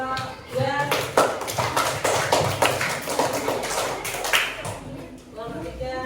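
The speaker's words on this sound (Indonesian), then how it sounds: "Tepuk tangan buat kelompok 2." Classroom applause for a student group, a burst of clapping hands and tapping lasting several seconds, with voices speaking over it.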